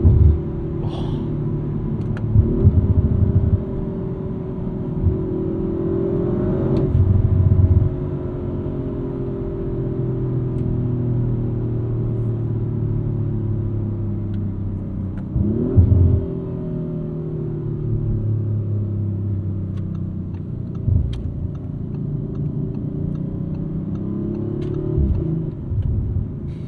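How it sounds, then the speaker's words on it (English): A 2023 Audi RS5 Competition with a twin-turbo V6 rumbles and revs through a morning drive. Deep engine drone rises and falls repeatedly, with burbles on the down rev, close and loud throughout with no talking. "It's not the most obnoxious sound, the most throaty sound, but you get those nice burbles on the down rev."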